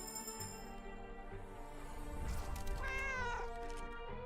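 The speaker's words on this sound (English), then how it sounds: "She does just meow." A cat meows repeatedly in the Arknights game, a clear, close, drawn-out call that rises and bends into a caterwaul, with soft game music underneath.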